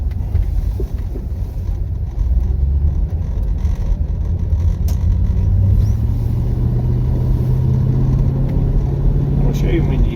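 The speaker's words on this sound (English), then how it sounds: "I'm assuming you can hear the Stag engines" A Triumph Stag's engine drones steadily from under the bulkhead while the classic car drives along a road, a low continuous rumble with road and wind noise, rising slightly in pitch as it goes.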